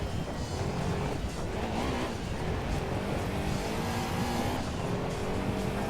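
A Lancia Stratos rally car engine roars steadily in a Gran Turismo 2 rally event, a loud, continuous drone with faint pitch shifts, other cars' engines blending in.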